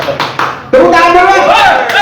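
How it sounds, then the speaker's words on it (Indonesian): An audience claps at an Indonesian live stage event, a few scattered claps at first and then a fuller burst of applause, with people talking loudly over it. "Tepuk tangan dulu."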